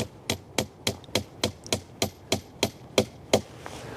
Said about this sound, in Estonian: siis sul on vaja haamrit ja koputad selle tüübli sisse.